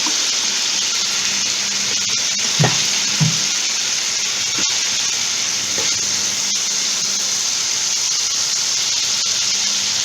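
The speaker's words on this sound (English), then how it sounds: "Cook the masalas nicely, let them get fried." Masala spices with grated ginger fry steadily in a hot pan, giving a loud, continuous sizzle, broken by a couple of brief knocks from stirring.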